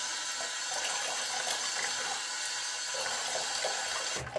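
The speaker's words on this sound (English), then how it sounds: "Let me get my face wet." Steady rush of running water from a tap while a face is wetted before a shave, continuous and fairly loud, with a brief splash near the end.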